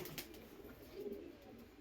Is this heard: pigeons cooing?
yes